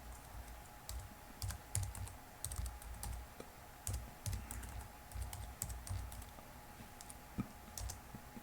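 Someone types a Linux mount command on a computer keyboard in quick irregular bursts of soft clicks and key taps. The typing is close and fairly quiet over a low hum, with no talking.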